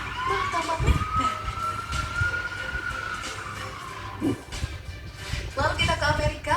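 An ambulance siren wails in a long rising and falling tone amid traffic noise and voices, fairly near and steady under the street bustle.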